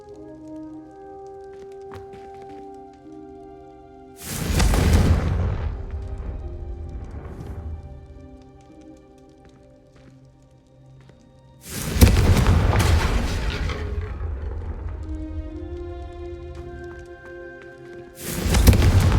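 Confringo spells cast in Hogwarts Legacy burst as loud, deep explosive booms, three of them spaced several seconds apart, each decaying into a rumbling tail over soft game music.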